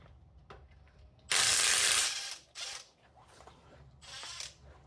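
A socket ratchet works loose the oil filter housing on a Toyota 7M-GTE engine during teardown, giving bursts of quick close clicking with short pauses between them and faint shuffling in the background.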